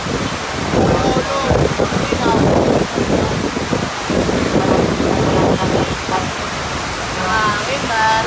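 Wind gusts buffet the microphone outdoors during a home-service tattoo session, making a loud, steady rushing roar that swells and eases, with voices faintly mixed in underneath.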